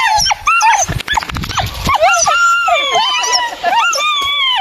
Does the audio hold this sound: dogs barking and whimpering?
yes